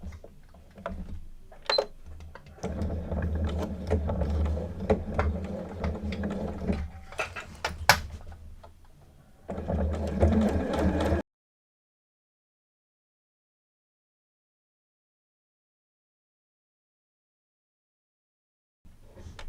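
A sewing machine stitches a seam on a Hoop La project bag, its mechanical whir running in bursts for about eleven seconds with brief pauses, then silence with a faint sound returning at the very end.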